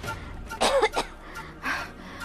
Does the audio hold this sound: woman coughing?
yes